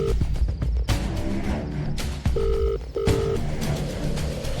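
A phone number is dialed, with a few short, clear key-press beeps spaced apart over dense background sound.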